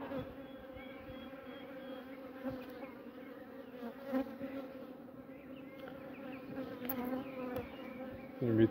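Honey bees hum steadily around the frames of a small nucleus hive, a dense, continuous close buzz with individual insects flaring louder as they pass near, no voices.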